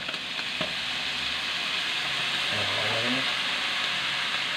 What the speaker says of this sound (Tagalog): Bigyan din natin ng patis habang ginigisa